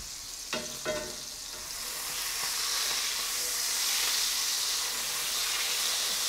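Steak sizzling in a pan just after flipping, a couple of soft knocks at the start followed by a steady hiss that swells and holds, close and moderately loud.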